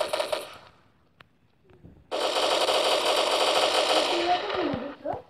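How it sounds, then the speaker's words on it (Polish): Gunfire in a Counter-Strike deathmatch: a short opening burst, a near-quiet gap with faint clicks, then a loud, sustained stretch of rapid automatic fire lasting several seconds before it breaks off. "Strzelam w podłogę, strzelam, a trafiam w broń."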